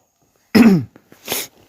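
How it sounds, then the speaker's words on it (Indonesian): A single sharp cough bursts out close by, followed by a short faint catch and a second softer cough, from someone at a bench replacing the LCD on a Sony Xperia Z3 Compact phone. "maaf ya, agak batuk."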